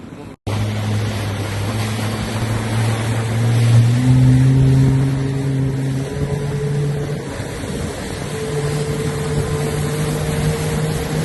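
A quiet electric boat moves through water, a low steady hum with soft rushing water friction and a few gentle rising tones.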